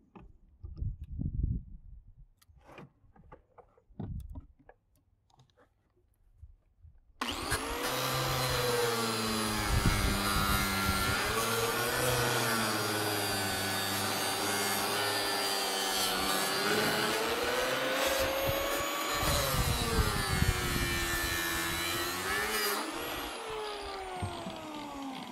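A power tool saws through an electric motor clamped in a vise, a loud continuous grinding rasp with a wavering pitch that runs to the end, after a few seconds of scattered knocks and handling noises.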